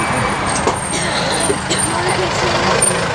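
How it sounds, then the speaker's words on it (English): A FedEx delivery truck rumbles nearby on Sunset Boulevard in Los Angeles, a low engine drone under street traffic noise with a brief hiss, while people talk close by. "Oh, FedEx truck"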